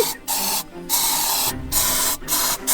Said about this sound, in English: I'm gonna spray it till it dies and keep an eye on it